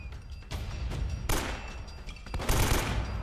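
Rapid gunfire in Uncharted: Drake's Fortune, several loud bursts of shots in quick succession with short gaps between the volleys, close and continuous.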